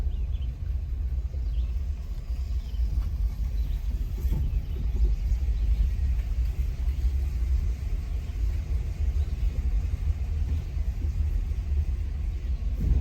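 Car rolling slowly through Bump Bridge, a wooden covered bridge in Campton, New Hampshire, heard as a steady low engine rumble and road drone from inside the vehicle, continuous and fairly loud, no talk.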